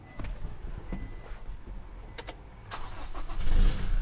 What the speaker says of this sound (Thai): เป็นไงเสียงท่อนะครับสุดเลยนะครับ